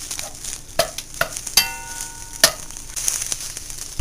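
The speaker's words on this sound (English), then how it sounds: "a turkey sausage, just 1 sausage out of the casing that we're just going to brown and let render" Crumbled turkey sausage browning in a pan with olive oil spray, a soft steady sizzle broken by several sharp spatula scrapes and clinks against the pan, close by with no talking.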